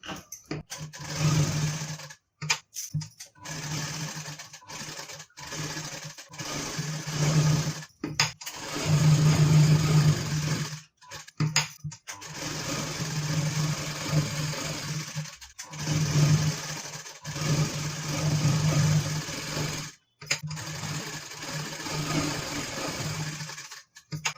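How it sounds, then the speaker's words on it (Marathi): Sewing machine stitching the side seam of a blouse for a peacock-blue wedding saree, running in long steady bursts of rapid whirring with short pauses between, loud and close, no talk. "आता इथे आपल्याला बाजूने पण शिलाई करून घ्यायचं आहे पाच नंबरची"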